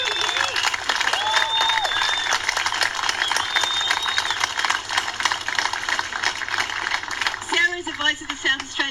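A rally crowd at Bondi Beach applauds and cheers a senator at a Fight for the Bight event, with dense, sustained clapping and shrill whistles before a voice begins speaking near the end.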